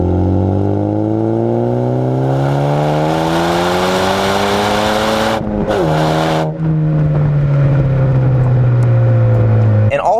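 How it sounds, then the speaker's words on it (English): A 2016 Ford Focus ST with a Ford Racing sport exhaust accelerating hard, loud engine note climbing through the revs, a brief gear-change dip, then a steady drone, heard from inside the car. "when I'm on the exhaust, when I'm on the throttle, going all out, it's a great sound."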